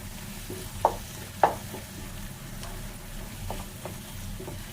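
Tomatoes and onions frying in a pan for a fish curry, a steady low sizzle with two sharp stirring clinks early on and a few softer taps later, no talk.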